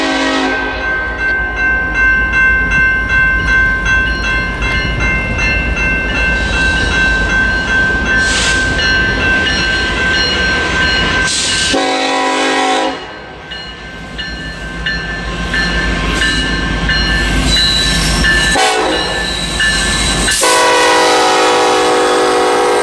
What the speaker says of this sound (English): a BNSF eastbound was passing through